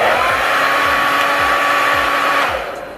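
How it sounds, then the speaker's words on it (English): A hair dryer blows loudly and steadily at close range, a constant airy roar with a whine, then winds down at the end. "take your blow dryer and put it on"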